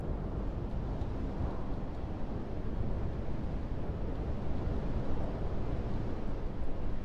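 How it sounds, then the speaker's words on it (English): Steady broadband wind roar in a flight simulator, flying a Cessna 408 SkyCourier at altitude in weather, a continuous even rush filling the whole stretch with no speech. "It sounds like it's going to be pretty windy up here."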